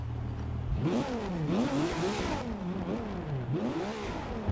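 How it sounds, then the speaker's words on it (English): Race car engine in Forza Motorsport 6 revving repeatedly, climbing and dropping in pitch through several quick gear changes, close and steady with no talk. "Well, it sounds like a race car."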